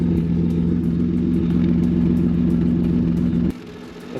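BMW E36 fitted with individual throttle bodies idling loudly with a steady, throbbing engine note, then cutting abruptly to a quieter low rumble near the end.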